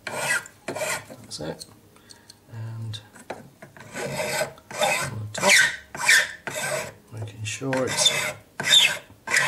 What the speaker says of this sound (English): so I'm just getting rid of the excess solder, and I'll just level off the bottom and the top